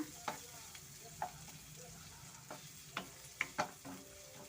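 Garlic and onions fry in a pan for pepper chicken, with a low steady sizzle and several sharp scrapes and taps of a spoon stirring at intervals, fairly close and without talk.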